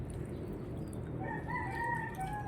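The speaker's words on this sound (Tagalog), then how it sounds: "Nakita niyo yung manok na yan." A Mindanao rooster crowing in a drawn-out, wavering call that starts midway, fairly faint against a steady low background rumble.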